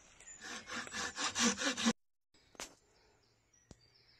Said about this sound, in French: je vais découper une belle tranche dans ce rondin-là